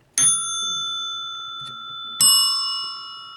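An old telephone bell with an adjustable bias spring and a loud-soft control plate rings twice, each a sharp metallic strike with a long bright ringing decay, the second strike coming about two seconds after the first.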